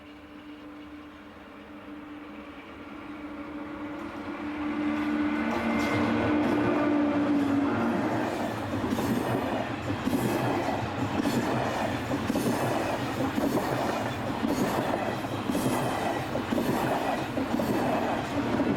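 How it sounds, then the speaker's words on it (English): TGV trainset 31 departs a station with a rising rumble, building into a steady loud roar of wheels and rolling stock, with clattering rail joints and a brief squeal near the start. "TGV set number 31 pulls out of the station with the 745 from Paris."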